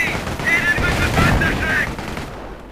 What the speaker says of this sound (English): There's a Commando Vickers machine gun team in the house there firing at the grenadiers in the house across the street.